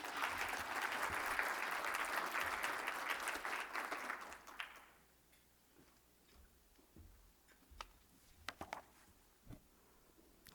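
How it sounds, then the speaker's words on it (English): An audience at an Economic Club of Canada luncheon applauds to welcome a Novartis Canada oncology executive, a dense, steady wash of clapping for about five seconds before it stops abruptly, leaving a quiet room with a few faint clicks and shuffles. "Let's give her a warm round of applause."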